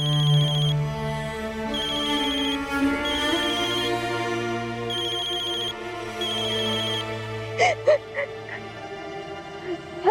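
An incoming-call ringtone plays in repeated tonal bursts with steady pauses over an indoor soap-drama scene, with low background music beneath and a few sharp knocks near the end.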